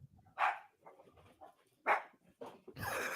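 A dog barks a few times close by, sharp separate barks with short whimpers and quiet gaps between them, no one speaking.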